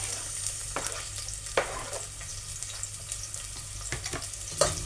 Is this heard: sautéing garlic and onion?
yes